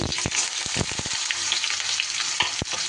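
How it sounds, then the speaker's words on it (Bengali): Dried red chillies crackle and sizzle in hot oil while cooking ridge gourd, a busy close frying hiss with irregular popping spatters throughout. "এবার আমি এই তেলের মধ্যে দুটো শুকনো লঙ্কা ফোড়ন দিয়ে দেব"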